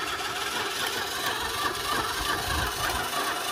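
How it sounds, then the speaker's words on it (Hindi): An electric drill machine fitted in place of an engine drives a bike, giving a steady, moderately faint whirring hum with grinding, rubbing mechanical noise and a slight low rumble, no talking over it. "एक ड्रिल मशीन बाइक को चला रही है"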